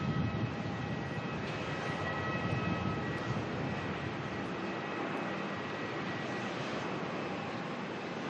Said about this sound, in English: Etihad from Abu Dhabi coming on in now. A gorgeous golden 787.